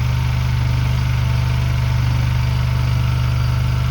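A petrol generator runs steadily under a 1200 W load in freezing winter weather. Its engine hum is constant and low-pitched, with no talking over it.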